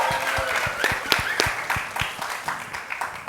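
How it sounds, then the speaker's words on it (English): An audience at a real estate market event applauds a panelist, with a short burst of scattered, moderately close claps that thins out after a few seconds. "Yeah, she deserves applause."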